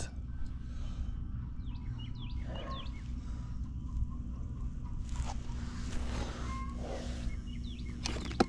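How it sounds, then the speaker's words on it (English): Chickens cluck in short scattered calls a little way off, heard faintly over a steady low mechanical hum outdoors during HVAC work. "Somebody's got some chickens."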